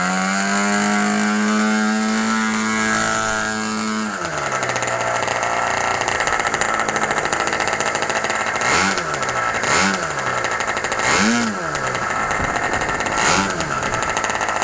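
A 10cc MVVS model aircraft engine, freshly overhauled, runs steadily and loud with a buzzing drone, changing pitch after a few seconds and then rising and falling in several quick throttle surges.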